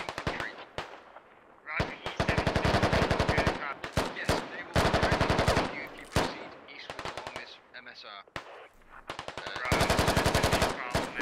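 Automatic rifle fire in the military shooter Squad, with long rapid bursts of shots separated by short pauses, loud and close, with distant shots in between.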